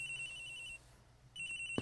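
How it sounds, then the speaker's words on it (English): A telephone rings in the Ace Attorney Investigations video game, two steady electronic rings separated by a brief pause, clear and moderately quiet, with no talk. "Agent Hicks' phone! It's ringing from somewhere, sir."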